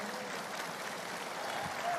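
Faint, distant applause from a conference audience at the APEKSI 2023 national meeting of city mayors, a steady soft wash of clapping with no clear peaks.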